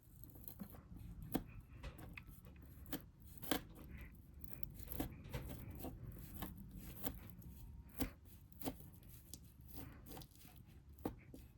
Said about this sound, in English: we're gonna cut it open. I know this is a bit dramatic, but yeah, we're gonna use an actual knife